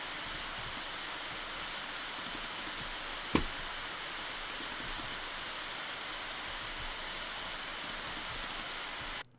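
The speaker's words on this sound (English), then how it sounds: "throw in some of the fan noise you may hear at keyboard level as you play games" A Dell XPS 15 9560 laptop cooling fan whooshes steadily at a low level while gaming, an even airy hiss with a few faint ticks and clicks.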